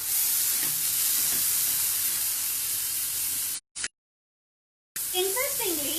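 Boiled rajma tipped into a pan of hot masala sets off a steady, fairly quiet sizzling hiss, broken by a brief dropout to silence before the frying sound resumes.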